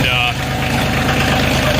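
A Kioti CK2610 compact tractor engine idles loud and close, a steady low diesel chug with regular firing pulses throughout.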